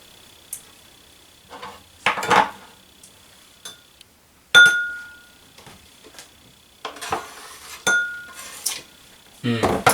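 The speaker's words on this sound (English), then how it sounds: "I will get another bowl here to put my garnish in." A bowl clatters down on a kitchen counter during Asian cooking prep, with several separate ceramic clinks and knocks spaced out over the clip, close and fairly sharp, alongside faint handling sounds.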